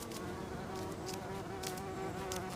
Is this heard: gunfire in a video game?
no